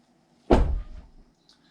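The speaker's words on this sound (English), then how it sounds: "you press the button and you open the door" A Tesla Cybertruck door pops open at the press of a button, a single short clunk followed by a brief fading release, close and alone.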